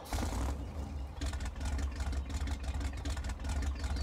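A monster truck engine idles in Farming Simulator 19, a steady, loud, low rumble with a popping, crackling texture that runs throughout with a brief dip early on.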